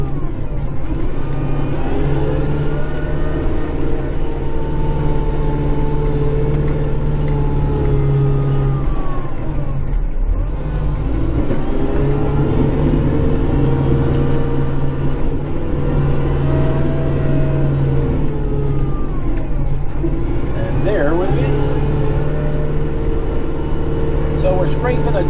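A tractor plowing snow and scraping ice runs steadily and close for the whole stretch, its engine droning and rising in pitch now and then, with voices talking over it.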